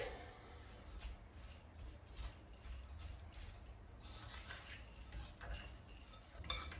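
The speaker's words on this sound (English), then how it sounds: "So we're going to mix that through." Bean burger mixture with steamed veggies being stirred and tossed in a bowl: soft, close scraping and light clinking in an irregular rhythm, quiet and without talking.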